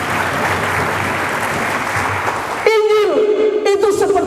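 A church congregation applauds for a couple of seconds in a dense, loud wash of clapping, then it cuts to a voice speaking or calling out over quieter background.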